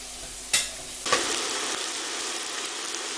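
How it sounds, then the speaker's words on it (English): Chopped onion is tossed and stirred in a hot frying pan, giving a steady close sizzle with two sharp scraping clatters near the start as it is moved around. "We're just going to toss that around and cook that down until the onion just starts to just get a hint of colour on it"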